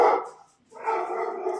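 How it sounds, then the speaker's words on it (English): A dog barks close by in two rough, drawn-out bursts separated by a short pause. "that's my dog"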